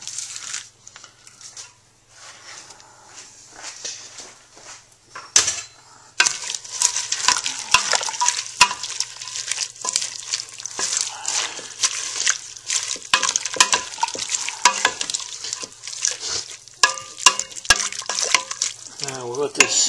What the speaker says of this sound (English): I'm going to add the bok choy to the mix as well